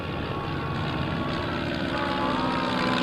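An L-17 trainer plane makes a photo pass with its smoke on, giving a steady, loud propeller-engine drone that holds evenly throughout, with no talking.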